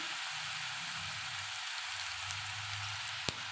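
Taro root (seppankizhangu) frying in oil in a pan, a steady, even sizzling hiss with faint crackles and one sharp tap near the end, no voices.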